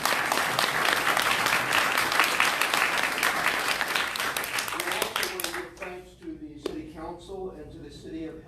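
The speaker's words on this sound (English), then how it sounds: "you didn't give them big enough applause." Audience applause for majorettes at a Helena City Council meeting: dense, loud clapping fills the room for about five seconds, then fades into scattered claps while voices begin talking.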